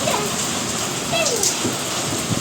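Rain falls on farmland, a steady broadband hiss of drops on surfaces, continuous and fairly loud, with faint bird-like chirps briefly above it.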